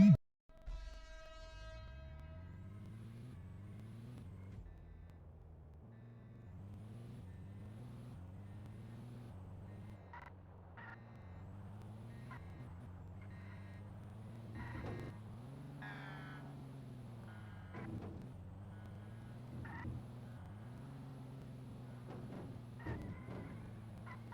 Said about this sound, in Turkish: GTA 5 araba yarışı.